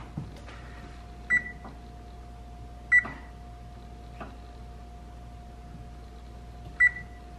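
An oven control panel beeps as buttons are pressed to set preheat: three clear short electronic beeps spaced a few seconds apart, with faint button clicks and a steady low appliance hum between them, no talking.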